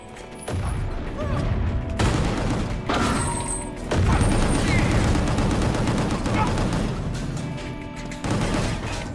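Rocket launchers fire and explosions boom in a shooter video game, a dense, loud barrage of blasts and rapid gunfire in long bursts separated by brief lulls.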